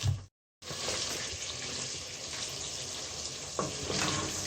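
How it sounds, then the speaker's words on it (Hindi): Spices with coriander powder fry in a pan, making a continuous loud sizzling hiss after a brief silent break at the start, with occasional stirring scrapes. "अब इनको डाल के फ्राई करते हैं अच्छी तरह।"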